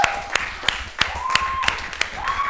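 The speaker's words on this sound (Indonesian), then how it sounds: "Tugas kalian udah selesai, tepuk tangan dulu buat kalian dong." During an Indonesian classroom lesson, a class claps for themselves after finishing an assignment. Sparse, sharp claps stand out over a steady background tone, with voices underneath.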